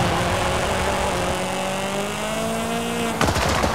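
A Renault Clio engine pulls away hard, its steady tone climbing smoothly in pitch as it accelerates, loud and close, ending in a brief burst of rattling noise.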